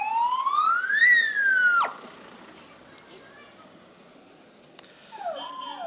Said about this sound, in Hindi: अभी भी पुलिस के सायरन